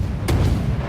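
A warship's main guns fire in the naval battle game World of Warships, one deep booming report with a rumbling tail, close and loud, lasting under a second.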